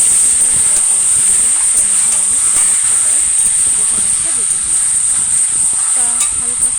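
Meat fries in spice paste in a pan, giving a steady, loud hiss and sizzle that runs without a break, while a person talks faintly underneath.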